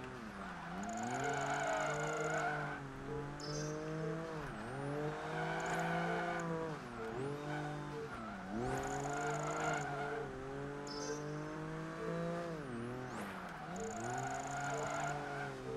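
A race car in Project Gotham Racing 3 on a Tokyo circuit, its engine rising and falling through repeated gear changes and revs, with short bursts of tire squeal on corners, loud and continuous.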